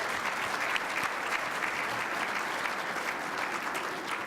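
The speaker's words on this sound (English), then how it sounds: "Let's give ourselves another round of applause for that." Audience applause at a Mississippi business gathering for MEC Capital Day, a steady, dense clapping from a large crowd held at even loudness for the whole span with no speech over it.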